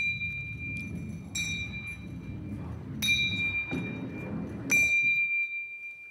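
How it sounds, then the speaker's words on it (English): Three clear bell dings ring out at evenly spaced intervals, each leaving a bright, lingering tone over a low rumble of background noise. "So we should hear the bells ringing at equal intervals in time."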